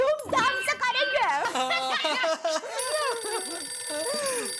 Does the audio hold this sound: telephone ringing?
yes